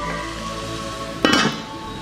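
A metal lid clanks onto a cooking pot with a short bright clatter partway through, over the soft sizzle of leafy greens cooking, with no talk.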